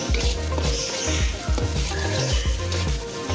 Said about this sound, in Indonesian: Kemudian telur ini kita orak-arik bersama bumbu tadi